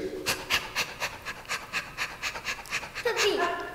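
A person imitates a thirsty sheep by panting, a rapid rhythmic series of breathy huffs, fairly close, ending in a drawn-out vocal sound.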